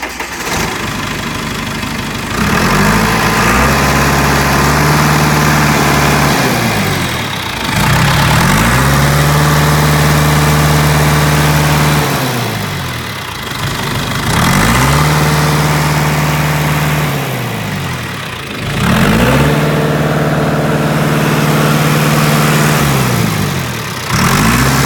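A John Deere 682C roller, a 30,000-pound machine, has its diesel engine running loud and close, rising and settling in cycles with steady idling stretches between, and nobody talks.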